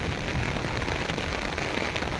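Heavy downpour in Taunsa Sharif, a steady dense hiss of rain pounding surfaces close by, constant and loud with no pauses or voices.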